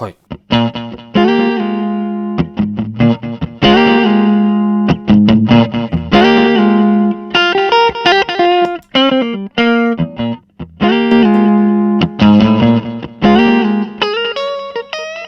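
Electric guitar through a Limetone Audio buddy booster and delay pedal, with a boosted, distorted tone and delay echoes, plays a lively solo of sustained notes and quick runs, loud and close.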